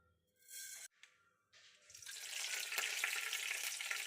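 Mustard seeds hitting a little hot oil in a pan for tempering, a few brief clatters and then a rising, steady sizzle that grows louder and fills the rest of the moment.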